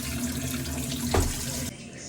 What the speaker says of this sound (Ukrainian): Виливаємо непотрібну воду грязну, відповідно.